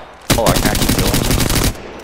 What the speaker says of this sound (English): That was a two-round burst.